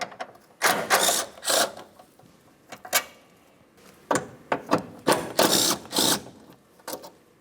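A hand tool working the two 10mm mounting bolts on the wiper assembly of a 2009-2010 Pontiac Vibe, heard as a series of short mechanical ratcheting bursts with pauses between, close and fairly loud.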